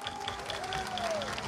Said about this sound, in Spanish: Un fuerte los aplausos para él.